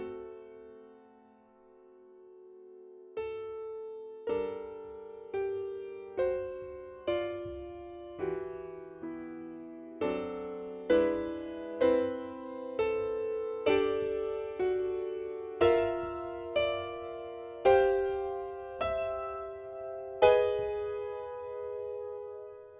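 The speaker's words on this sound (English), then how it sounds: "So on the piano solo, this part sounds like this." Solo piano plays a slow sequenced composition, chords entering one after another in a steady rhythm and swelling in loudness toward the end, each struck chord ringing on.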